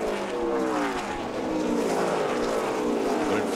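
NASCAR Craftsman Truck Series race trucks roar around the track at the 2008 Toyota Tundra 200, a loud sustained engine howl with shifting pitch as several trucks pass, mixed with broadcast crowd wash.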